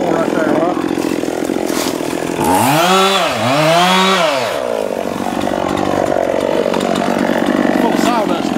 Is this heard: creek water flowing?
no